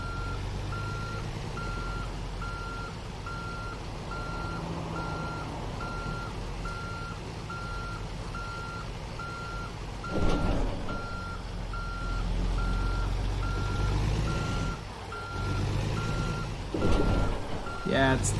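A truck in American Truck Simulator backs up a trailer, its reversing alarm beeping steadily in an even rhythm over a low engine rumble, with a few louder thumps and rises in engine noise.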